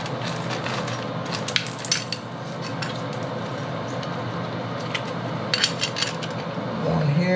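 Metal toilet bolts are handled and fitted into place during a toilet replacement, making scattered light clinks and taps over a faint background hiss, with a couple of brighter metallic clusters near the middle and end.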